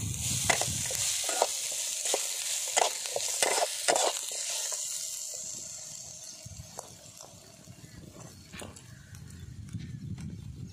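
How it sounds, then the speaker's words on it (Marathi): Green chilies sautéing with potatoes in a pan for sabudana khichdi, with intermittent spatula scrapes and clatters over a soft sizzle that fades toward the end. "दोन मिनटं ही मिरची मी परतून घेणार आहे बटाट्यामध्ये."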